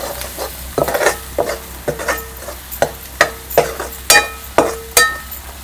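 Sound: onion-tomato masala being stirred and fried in a pan

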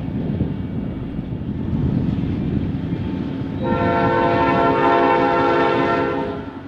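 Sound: P5A horn on CF&E EMD locomotive 2095

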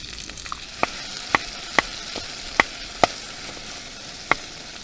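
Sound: canned stewed meat (tushonka) frying in a pan

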